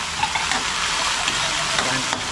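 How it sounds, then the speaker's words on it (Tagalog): Food sautéing in a hot pan makes a continuous close sizzle, with a few soft stirring knocks scattered across the brief stretch and no speech. "Igigisa muna natin to"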